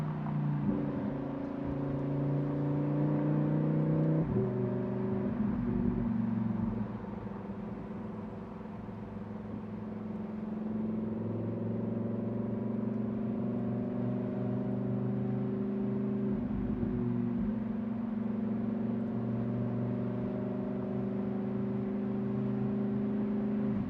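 A car driving with its roof removed in Dubai, a steady engine hum with a gear change and rising revs, wind and road noise continuous throughout, no talking.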